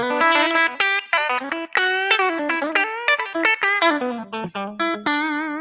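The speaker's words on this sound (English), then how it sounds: "that sort of telly or sort of single coil Strat sound" Electric guitar with a bright, twangy single-coil tone plays a quick run of picked notes and chords, close and clear with light effects.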